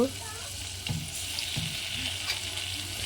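Ginger-garlic paste fries in a pan with a close, steady sizzle, broken by a couple of soft clatters as it is stirred, for about three seconds.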